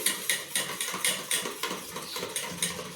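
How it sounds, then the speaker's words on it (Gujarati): Rhythmic scraping and clinking of a spoon against a bowl while mixing gram flour batter, repeating steadily, close up and moderately loud, with no talking. "ગાંઠા ન પડે એ રીતે મિક્સ કરી દઈશું"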